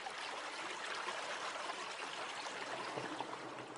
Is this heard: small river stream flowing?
yes